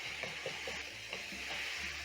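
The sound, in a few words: minced meat frying and being broken up with spatula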